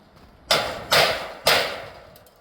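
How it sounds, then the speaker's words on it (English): Hammer striking a chisel to break open a metal roof cleat on a field-lock standing seam metal roof: three sharp metallic blows, each ringing briefly and fading, close and loud with no talk. "using the hammer and the chisel to break open"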